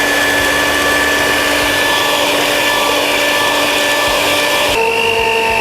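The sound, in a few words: mixer kneading bread dough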